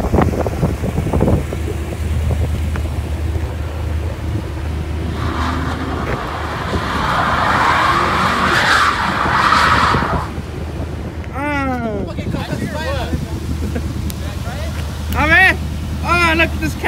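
A 2001 GMC Sierra pickup with a flip kit spins its tires, building to a loud, rough roar and screech mid-clip, with excited voices shouting nearby before and after.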